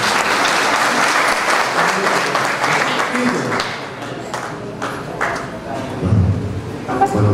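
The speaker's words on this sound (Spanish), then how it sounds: "Lo recibimos con un fuerte aplauso." Hearty audience applause at a signing ceremony for a mango-production agreement, loud at first and then gradually thinning out, with a few scattered sounds near the end.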